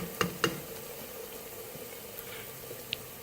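Ginger garlic paste sizzles in a pan with frying onions, a soft steady hiss with a couple of faint clicks near the start.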